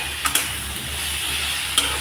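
Vegetables stir-fried with turmeric, cumin and coriander powder in a pan: a steady low sizzle with a few quick scrapes of a spoon, near and alone.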